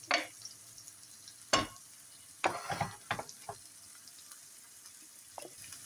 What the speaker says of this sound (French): je vais laisser dorer ça gentiment